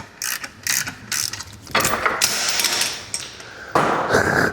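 A ratchet tightens clutch bolts with loud, close clicking bursts, first in short separate strokes, then in longer continuous runs of rapid pawl clicks.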